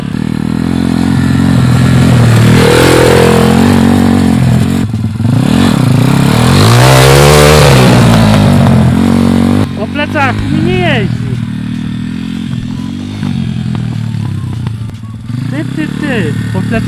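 An MRF pit bike engine drones loud and close throughout, its pitch rising and falling as the throttle is worked during a riding lesson, with people talking over the noise.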